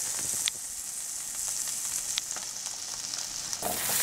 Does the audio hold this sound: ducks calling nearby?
no